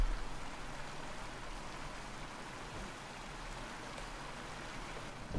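A waterfall in the Eco video game gives a steady, broadband rush of falling water. It is constant and moderately quiet, like nearby splashing flow, with no other sounds.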